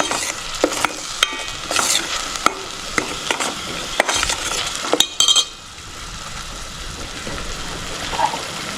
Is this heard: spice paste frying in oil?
yes